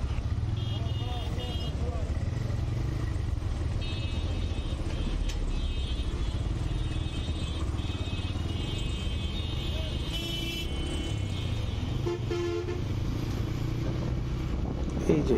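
Traffic crawls through a road jam near Tarabo on the Dhaka bypass, a continuous low rumble of engines, cars and motorbikes with a few horn beeps and wind buffeting the microphone, while people talk nearby.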